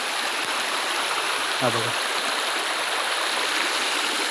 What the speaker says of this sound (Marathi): हा बघू शकता झरा आहे इथे, एकदम छान प्रकारे वाहतोय.